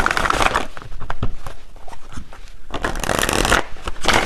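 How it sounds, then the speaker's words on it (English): Tarot cards drawn and shuffled from a deck, a dense papery riffling and rustling that runs close and fairly loud through most of the stretch, dipping briefly in the middle before surging again. "Let me pull one final card"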